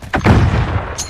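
A flashbang grenade goes off in a Call of Duty multiplayer match with a single loud, close boom and a short, rumbling tail that fades over about a second.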